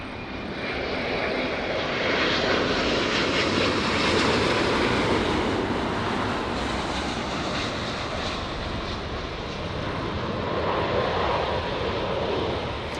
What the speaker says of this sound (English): We got SAS from Copenhagen. Flight 931, a big A350-900.